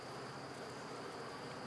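Honey bees buzzing inside a beehive among capped honey frames, a soft, steady, continuous drone heard close up, with no talking.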